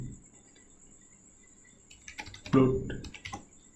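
Python code is typed on a computer keyboard, a quiet start followed by a burst of close, rapid key clicks and taps near the end.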